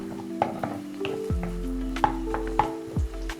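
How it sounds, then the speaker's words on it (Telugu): A single onion frying in a little oil in a pan, soft sizzle broken by scraping stirs and spatula knocks against the metal, with a low steady hum underneath. "ఫస్ట్‌గా పాన్ పెట్టుకొని కొంచెం ఆయిల్ ఏసుకొని సింగిల్ ఆనియన్ తీసుకున్నాను నేను"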